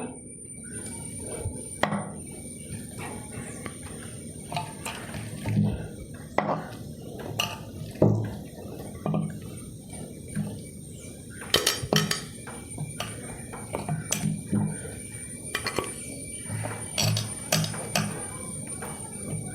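Breadfruit pieces are set into a pressure cooker pot in a home kitchen, bringing a run of scattered, close clinks and knocks of food and metal that come irregularly for about twenty seconds with no talking.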